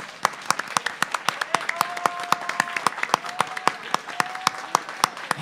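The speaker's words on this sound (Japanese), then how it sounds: "もう一度優勝したドリームに拍手をお願いします" A crowd at a Street Fighter III 3rd Strike tournament final applauds the winner with steady, sustained clapping, fairly close and lively, with sharp individual claps standing out across the whole stretch.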